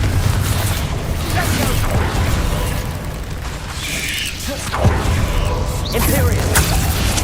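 Confringo spell cast in Hogwarts Legacy, a loud fiery burst with whooshing and explosive pops over a dense, noisy battle backdrop, a sharp impact near the middle and another toward the end.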